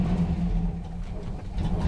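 A cold 1960 Mercury truck engine with its idle set too low rumbles at low revs just after stalling and restarting, a close, steady throb with small dips in level.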